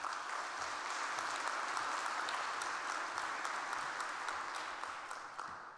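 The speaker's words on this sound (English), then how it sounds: "Give her a round of applause, please." Audience applause for a speaker at a Brussels AI conference, a steady, even wash of many hands clapping at moderate distance that holds for several seconds and then begins to fade.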